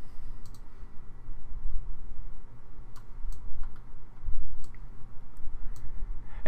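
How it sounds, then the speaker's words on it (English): Fingers tapping out a short search entry on a computer keyboard, a steady run of light, close clicks over a quiet room hum with no talking. "I'm going to type Laurel Cove."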